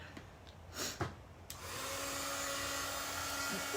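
A hair dryer switches on and runs steadily, drying a Chalk Couture chalk-paste craft project, after a few brief handling clicks and taps.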